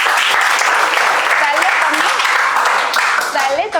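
A group of participants in a classroom quiz session claps together, producing dense, loud, continuous applause for a few seconds.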